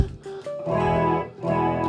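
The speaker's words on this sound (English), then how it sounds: "Little phaser" Electric guitar played clean through a phaser pedal, a few picked notes then sustained strummed chords with a swirling, sweeping tone, loud and close.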